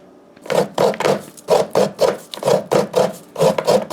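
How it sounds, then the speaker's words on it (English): Coconut is grated by hand with quick, rhythmic scraping strokes, roughly a dozen crisp rasps in a steady beat heard up close, with no talking. "So we got our coconut grated now."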